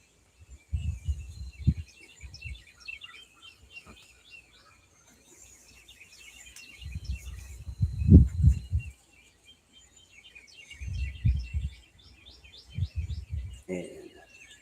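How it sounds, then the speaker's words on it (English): Several birds chirp and warble in bursts, with rapid high trills and tweets repeating through the clip, while someone talks intermittently underneath and faint insect buzz lingers in the background. "Listen to those birds having the time of their life."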